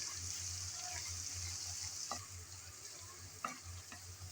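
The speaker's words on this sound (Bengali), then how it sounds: "নেড়ে চেড়ে আদা রসুন ভেজে নিতে হবে, যেন আদা রসুনের কাঁচা গন্ধ চলে যায়।" Ginger garlic paste and onions frying in oil, with a steady sizzle throughout and a few soft scrapes of stirring in the pan; no talking.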